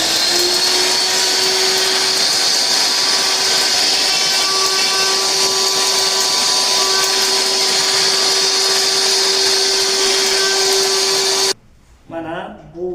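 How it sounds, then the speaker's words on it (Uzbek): A laboratory mill grinds a feed sample of dried cabbage with a loud, steady whirring roar and a constant high whine, running without pause until it cuts off abruptly near the end. "Namunani tegirmonchaga solib oldik. Endi buni yaxshilab maydalash kerak bo'ladi."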